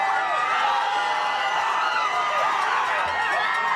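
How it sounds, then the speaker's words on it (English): A huge crowd cheering at the Denver Nuggets' 2023 championship parade, a loud continuous roar of shouts and whistles that fills the scene without a break. "The crowd is so loud."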